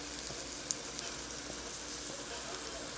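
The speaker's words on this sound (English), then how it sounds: "I'm actually frying them in some coconut oil." Crab cakes fry in coconut oil in a pan, giving off a soft, steady sizzle with a few sharp pops and crackles, fairly quiet.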